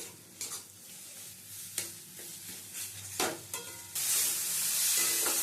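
Bombay duck (lote) fish sautéed over low-to-medium gas and stirred in a pan, with intermittent scraping strokes over a steady sizzle that swells louder near the end, close by and without speech.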